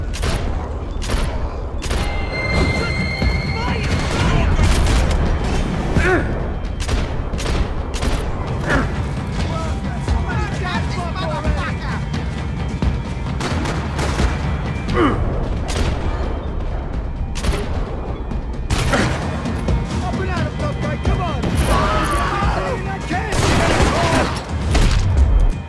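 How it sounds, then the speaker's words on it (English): Dense gunfire from the video game Max Payne 3, set over Hoboken: rapid bursts and sharp cracks with heavy booms and mechanical clatter, loud and continuous throughout. "Gunfire over Hoboken."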